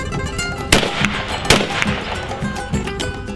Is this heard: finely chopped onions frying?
no